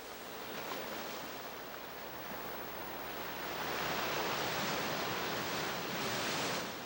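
Winter sea waves surge and break over the rocks at Dokdo in the East Sea, a steady, rolling roar of surf that swells louder in the second half, with no voices.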